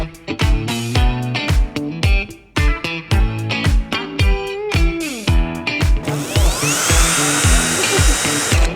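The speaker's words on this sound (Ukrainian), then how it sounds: "Це дріль, це дріль." An electric drill on display at the Canton trade fair whirs in short bursts, starting and stopping repeatedly with rhythmic mechanical clicking, loud and close, then runs in one sustained high-pitched spin near the end.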